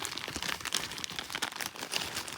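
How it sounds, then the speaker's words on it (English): Quiet, close crinkling of thin plastic, irregular rustles and crackles continuing throughout with no voices. "Now the way I did it was I took a plastic bag"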